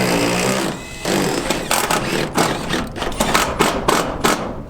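Screws are driven and backed out through metal roof trim hems on a hunting cabin, heard as close, loud bursts of a power driver's whir with rattling metal clatter between them and no talk.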